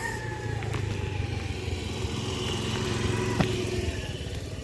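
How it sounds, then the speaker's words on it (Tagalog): A motorcycle engine runs steadily nearby, a continuous low putter with a faint mechanical whine and one brief sharp knock partway through. "Malakas yung volume ng motor."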